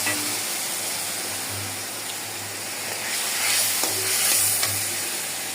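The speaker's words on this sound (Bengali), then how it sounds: "টমেটোগুলা, কাঁচামরিচগুলা, পেঁয়াজগুলা সব কিছু ভাজা ভাজা হয়ে গেছে। আমি স্বাদ মতো একটু পানি দিয়ে দিলাম।" Tomatoes, green chillies and onions fry in a pan for a gourd and fish chorchori, with a little water added. A steady close sizzle runs throughout, broken by stirring scrapes and a louder hissing swell toward the end.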